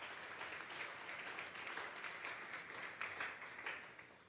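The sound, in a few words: church congregation applauding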